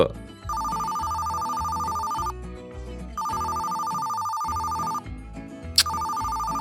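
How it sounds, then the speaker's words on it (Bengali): A telephone rings with repeated electronic tone bursts, loud and steady, pausing briefly between rings while background music plays underneath. "ফোনটা ধর"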